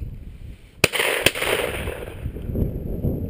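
Two sharp shotgun reports at a dove hunt in Frisco, Texas, loud and close, about half a second apart, with an open outdoor wash of wind and field noise around them.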